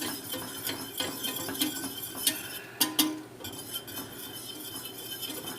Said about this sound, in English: I'm going to stir for about 2 minutes